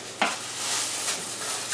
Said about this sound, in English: I'll get my sausages going back there